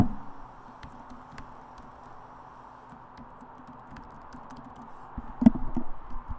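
Someone types a password on a computer keyboard as sparse, soft key clicks over a quiet hum, building to a short burst of louder taps near the end.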